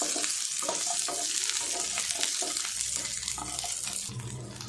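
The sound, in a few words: garlic and onion sautéing in a pan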